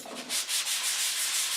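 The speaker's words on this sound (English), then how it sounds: "So this is 220 grit sandpaper." Hand sanding of a wooden eight-sided multi-layer coaster with 220 grit sandpaper, a close rhythmic back-and-forth rasp of about six even strokes with no talking.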